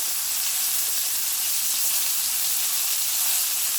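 Butter sizzles and fries loudly and continuously in a pan around a ribeye steak, a dense bright hiss with small crackles throughout and no talking.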